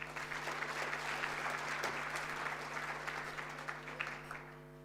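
A summit audience at a national ICT event applauds with steady, fairly faint clapping over a constant low hum, thinning out near the end.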